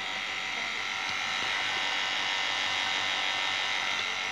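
A vacuum pump on a six-shelf freezer under repair gives a steady, smooth mechanical hum with a high buzzing whine, running continuously and evenly without pauses.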